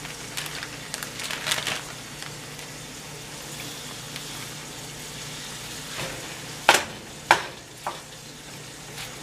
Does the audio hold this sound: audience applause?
no